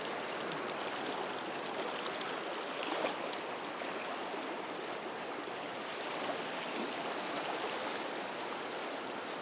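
Steady rushing flow of the river Ain, a broad continuous wash of moving water, even and unbroken with no voices or other sounds.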